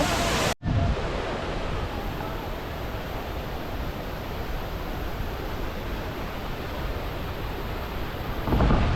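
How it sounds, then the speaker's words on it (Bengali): Dur Dur waterfall, an offbeat falls in Jharkhand, pours with a heavy flow and drifting spray, a constant broadband roar that fills the scene after a brief cut near the start. "জলের ফ্লো অনেক বেশি রয়েছে এবং গুড়ি গুড়ি জল ভেসে আসছে"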